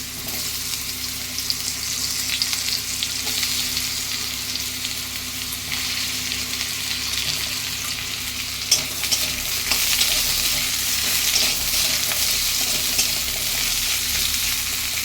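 Potatoes frying in oil for a small-fish chorchori dish, a continuous loud, even sizzle with faint scraping of stirring underneath and no voices.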